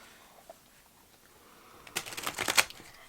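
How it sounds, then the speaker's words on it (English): Tarot cards are shuffled by hand in a quick riffling burst near the end, close and crisp after a quiet stretch. "we're still shuffling the cards in camera as I can"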